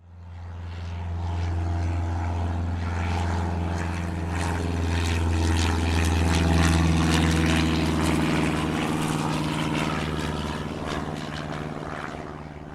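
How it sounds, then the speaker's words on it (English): A World War II era propeller plane drones past, a loud steady engine hum that swells toward the middle and slowly fades, with no voices. "shows off his perfectly preserved and meticulously maintained World War II era plane."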